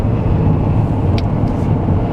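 Car interior on the way to a lakeside restaurant, a steady low engine and road rumble with faint rattles, close and continuous with no talk.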